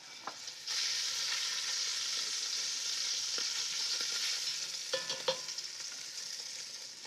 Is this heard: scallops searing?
yes